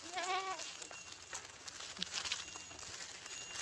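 A goat on a village farm bleats once near the start with a wavering, nasal call, followed by quieter rustling and faint outdoor background noise.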